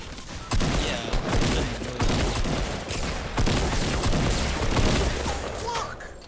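Rapid bursts of gunfire crackle in a Fortnite battle royale squads match, dense overlapping shots and booms filling the stretch at moderate level, with a faint voice in the background.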